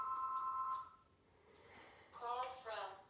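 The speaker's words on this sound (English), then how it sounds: "the phone is going to ring." A telephone rings quietly in a home, a steady electronic ring in the first second before it fades, followed by muffled voices and rustling.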